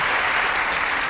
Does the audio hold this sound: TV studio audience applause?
yes